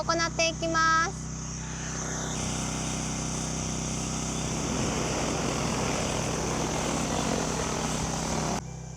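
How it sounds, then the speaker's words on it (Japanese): An agricultural spraying drone flies over a potato field, its propellers making a sustained, buzzing whine that holds steady for several seconds before cutting off, with a short voice-like tone heard at the start. "無事にドローンでの散布が終わった"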